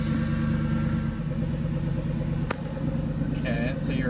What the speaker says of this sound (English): Now you're going to want to get in and start the car up.